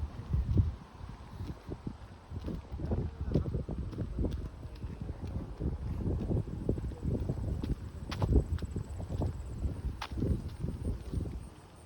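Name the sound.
wind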